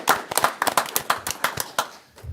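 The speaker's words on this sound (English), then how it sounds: "I think it's a great round of applause for that." Applause at a city council meeting, a small group clapping in an uneven flurry of sharp claps that tails off near the end.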